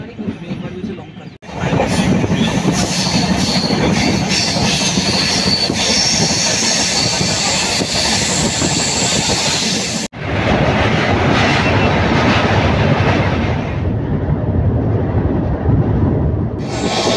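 The Kamrup Express rolls along the rails on a curving stretch between Kolkata and Nagaland, a loud continuous roar of wheels with clickety-clack and squealing heard from inside, broken by a brief dip, while a voice speaks.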